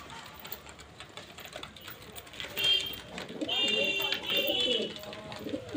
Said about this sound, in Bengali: দেখুন সব পায়রা একে একে ডাবছে খাওয়ার জন্যে